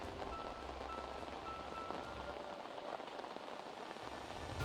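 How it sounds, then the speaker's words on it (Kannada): Heavy rain drenching the roads, heard as a steady, even hiss of downpour on surfaces, continuous and moderately loud throughout with no voices. "ಭಾರಿ ಮಳೆ ಬರ್ತಾ ಇದೆ ರಸ್ತೆಗಳಲ್ಲೆಲ್ಲ ನೀರು ಹೋಗುವಷ್ಟು ಮಳೆ ಬರ್ತಾ ಇದೆ"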